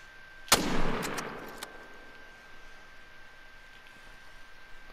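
A single sharp, loud rifle follow-up shot cracks out near the start, then booms and rolls away into a fading outdoor tail, during a moose hunt in the video game The Hunter Call of the Wild.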